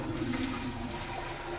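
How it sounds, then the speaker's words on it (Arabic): Boiling water poured from a kettle or pot for cooking makes a steady, rushing splash that is fairly close and continuous, with no voices. "بعد ما خليت الماء يغلي بسم الله باش نجي توا ونصب الماء"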